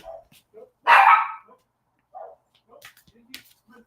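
A dog gives one loud close bark followed by a few softer yips and whimpers, with quiet gaps in between and an otherwise silent room.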